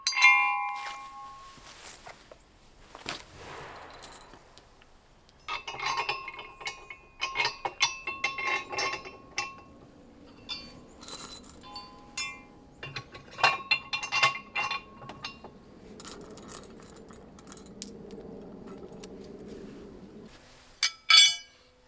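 Small metal parts clink and rattle as carriage bolts, washers and lock nuts are fitted while a Black Boar ATV implement is assembled, giving scattered bursts of close, sharp taps and scrapes with short pauses between them.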